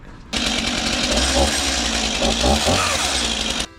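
A light Stihl MS 251 chainsaw runs loud and close, starting abruptly and holding a steady buzzing whine with slight revving before cutting off.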